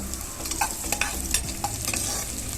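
Green chillies and drumstick leaves are stirred and sautéed in a pan, with a soft continuous sizzle and repeated scraping strokes of a spoon, close and without talk.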